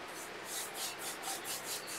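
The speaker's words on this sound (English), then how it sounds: "this is basically just scrubbing the surface off and getting rid of all of those little" Timber surface being scrubbed by hand for a small dovetailed box, a soft rhythmic rubbing of about seven quick back-and-forth strokes, faint and close, with no talk.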